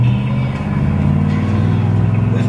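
A rat rod truck rolls along in first gear, its engine a steady low rumble with a faint rhythmic pulse, close and continuous throughout.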